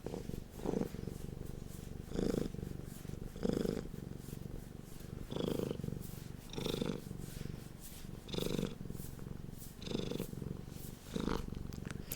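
Close, quiet purring from a happy cat, a continuous low rumble punctuated by regular louder inhale-exhale pulses about every second, alone without voices.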